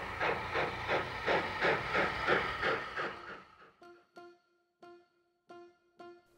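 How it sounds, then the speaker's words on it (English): A 1950s steam locomotive pulls away from a station platform, its exhaust beating in rapid rhythmic chuffs that slow and thin into widely spaced, ringing puffs. "our train instead appears to depart from platform 4."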